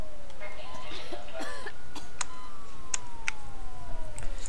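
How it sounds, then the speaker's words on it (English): Coughing crowd sound from a SimCity hospital, heard as scattered coughs and throat-clearing over a steady hiss, with a faint siren-like tone gliding down in the background. "Now I have the hospital sound bug. People are just coughing and stuff."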